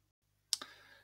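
One sharp computer mouse click after a moment of quiet, close and distinct, followed by a brief faint tail of room noise.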